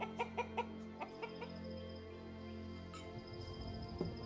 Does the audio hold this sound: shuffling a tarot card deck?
no